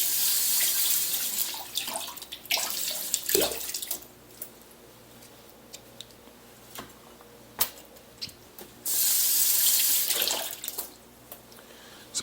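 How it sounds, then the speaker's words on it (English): Green peppers rinsed under a running kitchen tap, with broadband water rush that swells and drops in bursts, loudest near the start and again around the ten-second mark, with clicks and handling noises in between. "Rinse these ones off."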